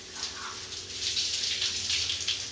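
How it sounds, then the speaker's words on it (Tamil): Elephant foot yam rinsed under a running tap in a kitchen, a steady close gush of water with faint splashing that swells slightly midway, no one talking. "ஸோ வேர் எல்லாமே எடுத்துட்டு அதுக்கப்புறம் சுத்தமாக வாஷ் பண்ணி எடுத்துக்கலாம்"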